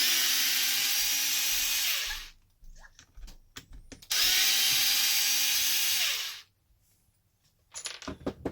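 A power driver backs chassis screws out of the rear differential of an Arrma Kraton EXB RC car in two loud, close whirring bursts of about two seconds each, with small clicks and taps of parts between them.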